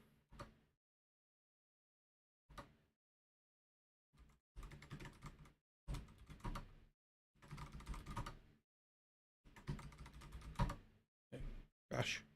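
Bursts of typing on a computer keyboard at a desk, quiet clicking clusters separated by pauses of silence, close and fairly soft, with no voices between them.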